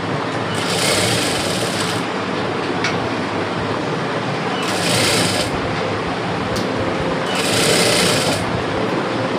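A sewing machine stitches a blouse lining in three loud, fast bursts of needle chatter separated by short pauses with a steady mechanical hum underneath, close up and with no voices.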